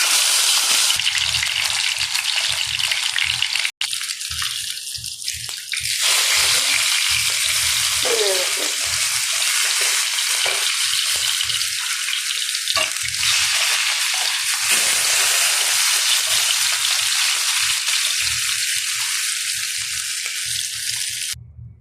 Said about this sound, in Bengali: এখন বেগুন ভাজা করবো